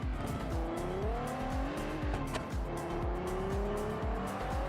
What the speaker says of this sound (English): Here's the Giulia in a brutal racing configuration. Stripped down, loud, and built for pure speed